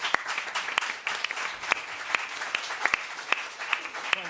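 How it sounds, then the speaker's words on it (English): A conference audience applauds a speaker at a panel session, producing a steady bed of clapping with distinct sharp individual claps cracking out at irregular intervals, close and fairly loud. "Can we have a round of applause?"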